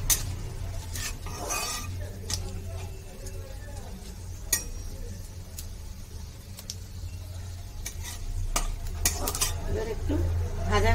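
Dried red chillies fry in a pan of hot oil with a steady sizzle, stirred now and then with a spatula that scrapes and clinks against the metal, the sound continuous and fairly close throughout.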